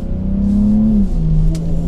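A BMW X3 M40i SUV engine revs up close and loud, holding a steady droning pitch before the tone drops as it shifts, with a brief higher whine near the end.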